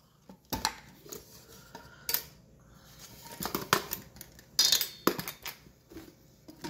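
A stick of unsalted Breakstone butter being mixed in a bowl for brownies, with irregular clinks and scrapes of a utensil against the bowl, close and fairly loud, some sharp knocks standing out.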